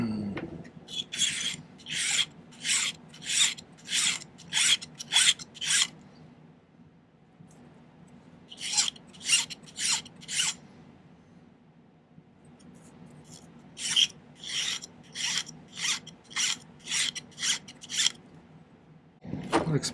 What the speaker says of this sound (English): my next step is going to be filing this stuff flat